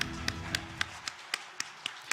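A congregation at a New Year's Eve worship service claps in unison. About eight crisp, evenly spaced claps come roughly four per second, moderately close, while a low murmur lingers at the start.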